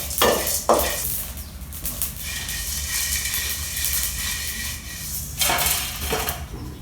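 Cumin seeds frying lightly in a pan for pirandai chutney, giving a steady soft sizzle with occasional scraping and stirring clinks of a spoon against the pan, near and fairly quiet.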